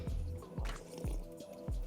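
Hot chili sauce drizzled into a bowl of Vietnamese pho at a restaurant, heard as a run of soft, close, wet splats and drips repeating every half second or so, with nobody speaking.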